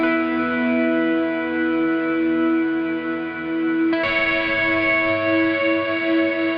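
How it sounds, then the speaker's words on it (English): Electric guitar played through an Old Blood Noise Sunlight reverb pedal set to a smooth chorus-vibrato pitch effect, with sustained wavering chords ringing loud and washy, shifting to a new chord partway through. "If I had my clean signal off, it wouldn't sound chorusy like that. Just vibrato-y."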